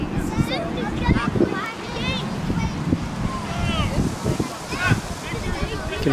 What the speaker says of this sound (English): You can feel the wind at our backs. The gusts are 20 miles an hour.